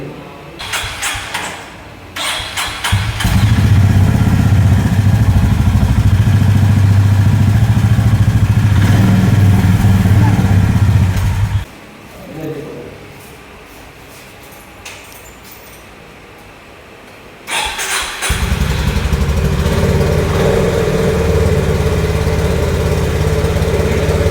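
A Honda Hyness motorcycle cranks and fires up, then settles into a loud, steady, close idle. The engine cuts out briefly to a quieter lull, then restarts and idles on again.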